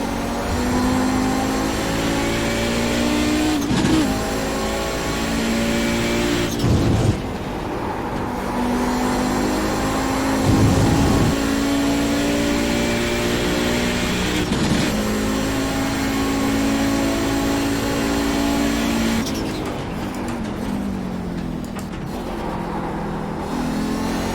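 The Audi 90 GTO race car in iRacing at Road America holds a loud, continuous engine drone close up. Pitch climbs steadily, with brief dips and bursts at gear changes and wastegate chatter between pulls.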